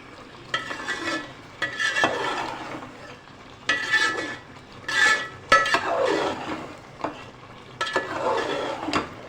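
Butt karahi meat being stir-fried in a pot, repeated scraping and clanking of a spoon against the metal in uneven bursts over a soft sizzle, no talking.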